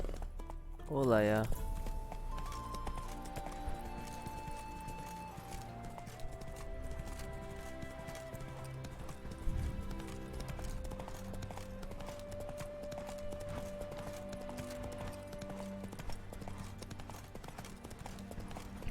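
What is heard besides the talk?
horse galloping in The Witcher 3 video game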